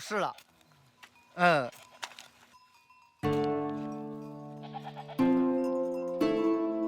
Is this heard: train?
no